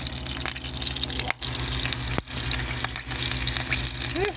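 Breaded, already-cooked pork loin crisping in hot oil in a pan, a continuous crackling sizzle with sharp pops and a few brief dips in intensity, close and fairly loud, with no talking.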